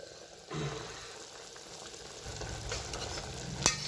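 Village-style chicken rassa simmers in a pot, giving a steady bubbling sizzle with occasional stirring scrapes and a sharp clink near the end, no voices.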